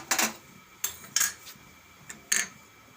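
A metal kadai clatters onto a gas stove in a handful of sharp, close clanks and scrapes spread over a few seconds, with quiet between them.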